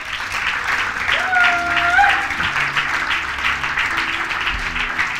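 Church congregation applauding and cheering during a French-language sermon, a steady broad wash of clapping across the whole stretch with a voice rising above it.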